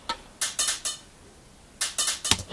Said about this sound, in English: Then there's some kind of harder percussion hits.